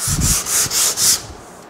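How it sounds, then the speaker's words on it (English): A teardrop-shaped sander is rubbed by hand along a wooden handrail cove, making about four quick, close rasping strokes in a steady back-and-forth rhythm with no talking. "It's a teardrop sander."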